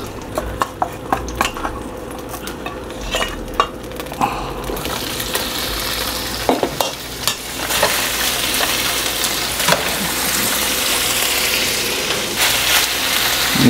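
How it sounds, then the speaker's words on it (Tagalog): Meat for chicken adobo with liver and gizzard is dropped into hot oil in a pot and sizzles loudly and steadily, with utensils clinking against the pot and scraping through the food up close. "then saka natin ipiprito yung meat"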